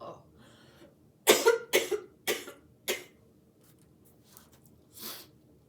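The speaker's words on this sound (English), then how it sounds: "Sorry, coughing fit." A woman coughs hard in a quick burst of four or five close, sharp coughs, followed by a softer cough a moment later in an otherwise quiet room.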